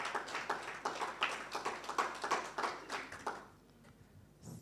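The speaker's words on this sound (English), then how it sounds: "once more let's give Ntate Koitsui a hand clap" Applause from an audience at an International Mother Language Day event, a steady patter of hand claps from a moderately distant crowd lasting several seconds before fading out.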